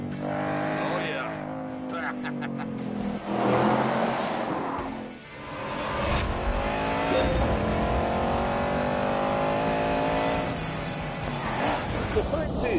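A push-rod, two-valve iron race car engine roars loudly through revving and acceleration, with pitch swells, gear changes and brief tire squeal, while someone talks over the engine noise.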